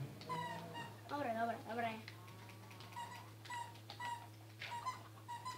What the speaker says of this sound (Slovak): Keby ste chceli vedieť, čo tu pípa, tak to pípa náš pes.